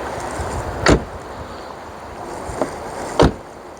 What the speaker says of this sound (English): The doors don't sound quite as heavy clunky as you'd expect, and maybe that's because they are made of aluminium.